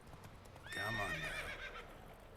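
Roach, the horse in Witcher 3, whinnies loudly and close over soft hoof clip-clops, with the neigh swelling and fading across a couple of seconds and no voices present.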